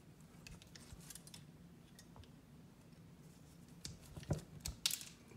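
A Klein Tools wire stripper snips and strips wire in a few small, quiet clicks and cuts, with a couple of sharper snips near the end against a faint background hum.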